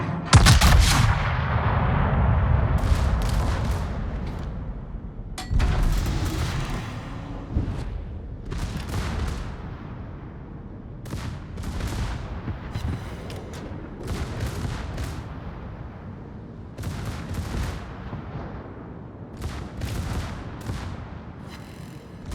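Naval gunfire in World of Warships, with loud booming gun blasts repeating in irregular bursts over a constant rumble of battle, the heavy shots landing close together throughout.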